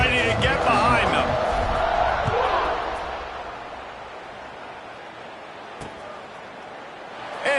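A stadium crowd roars at a kickoff late in the fourth quarter of the College Football 26 video game, loud and broad at first, then easing to a steady murmur.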